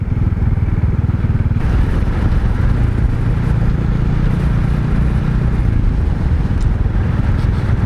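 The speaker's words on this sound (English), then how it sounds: "I could probably take my bike on the top" Motorbike climbing a rough, bumpy path, its engine running close and steady with a pulsing note, the revs rising partway through, and rattling over uneven ground.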